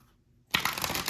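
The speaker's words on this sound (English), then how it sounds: "I've had such a difficult time shuffling your cards." Tarot cards are shuffled in a quick riffle of soft papery flutters that starts abruptly after a moment of near silence, close and fairly loud.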